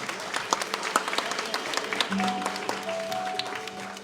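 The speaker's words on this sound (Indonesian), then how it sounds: "kita kasih tepuk tangan dulu untuk kesetiaan Tuhan atas orang-orang yang hebat ini" An audience at a church anniversary service claps in a dense, steady patter of applause, with some sharp individual claps and a sustained tone underneath toward the end.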